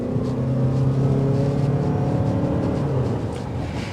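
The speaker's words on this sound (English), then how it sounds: "Now the engine will get a little noisy, but that's to be expected when you're mashing on the gas" A 2024 Toyota RAV4 Hybrid XSE engine drones steadily under hard acceleration, heard from inside the cabin, with a low, even hum that rises slightly and then settles, loud and without speech.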